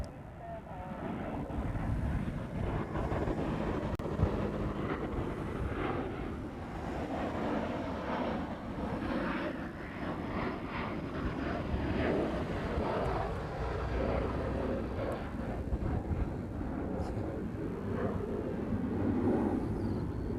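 A large jet departing overhead from Honolulu airport roars steadily at a distance, a broad continuous rumble with some wind buffeting, while someone talks over it throughout.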